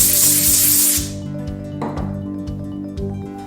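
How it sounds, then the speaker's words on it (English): Compressed air sprayed onto a watch to clean it: a loud, close hiss for about a second, then it cuts off, leaving faint clicks and handling noises. "Let's go ahead and take a little compressed air here."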